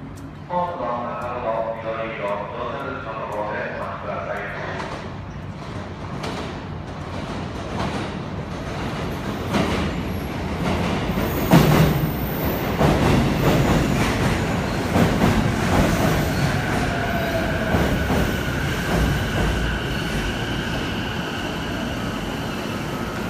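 A JR Yokohama Line eight-car local train rolls into Kannai Station platform 1 with a steady rumble, rising wheel noise and a brief high squeal of brakes, while people talk faintly around the platform.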